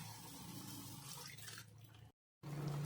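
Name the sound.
water poured into spice mix in a pan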